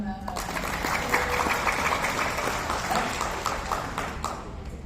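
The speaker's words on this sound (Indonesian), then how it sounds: "Tepuk tangan." Applause in a business meeting audience, a steady crowd of clapping hands with audible individual claps, moderately loud and continuous, with some voices underneath.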